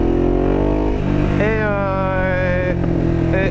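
A Ducati Diavel motorcycle with a changed sprocket accelerates hard in second gear, its loud, close engine note climbing steadily in pitch and staying strong throughout.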